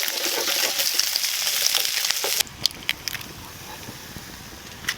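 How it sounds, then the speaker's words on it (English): Eggs frying in a thin pan outdoors in the woods: loud frying hiss fills the first half, then drops abruptly to a quieter sizzle with scattered taps and crackles. "Now I'm going to try and get some eggs on here."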